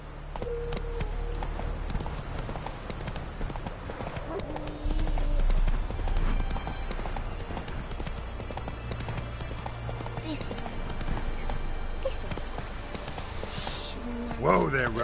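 A horse gallops in The Witcher 3 video game, with rapid, steady clip-clop hoofbeats running throughout, close and clear, along with game sound effects and a voice speaking at times.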